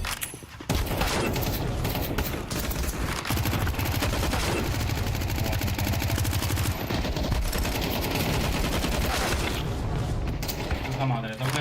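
Counter-Strike 2 gunfire rattles almost without pause, dense rapid bursts and single shots layered with booms, with people talking over the shooting.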